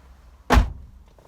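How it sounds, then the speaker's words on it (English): A single solid thunk as the door of a 1998 Honda Accord V6 slams shut, close and brief against a quiet background. "a good impression of quality is the door slam"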